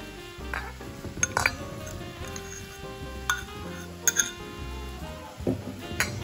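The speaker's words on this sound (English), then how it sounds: "And then mix it until you get a nice consistency that'll be easy to spread on a cracker." Egg, cheese, salt and pepper being mixed in a bowl: a utensil clinks and scrapes against the dish in irregular bursts, fairly quiet, with a faint musical background and no speech.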